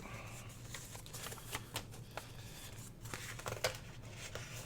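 Scissors snipping through printed book pages to make journal pockets, a run of soft crisp cuts and paper rustles over a steady low background hum.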